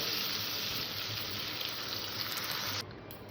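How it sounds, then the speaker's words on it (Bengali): Water is poured into a pan of curry, a steady close gushing splash that runs for a few seconds, then drops off sharply near the end, with no talk. "এবার এখানে আমি জল দিয়ে দেবো"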